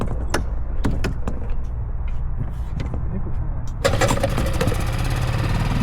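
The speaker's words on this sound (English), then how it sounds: "Watch the motor not start." A small outboard motor on a cheap fishing boat rumbles loudly, a few sharp knocks and clicks sounding over it before the engine catches and roars up at about four seconds, with a person's voice briefly in the mix.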